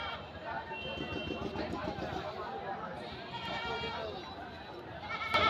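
Goats, including a crossbreed, bleat amid the crowd noise of a large goat market at Barobazar, Kaliganj, in southern Bangladesh, with people talking close by over the animals.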